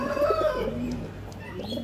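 Highflier pigeons coo softly and repeatedly, close by, with a steady low murmur of cooing and faint bird calls and no talking.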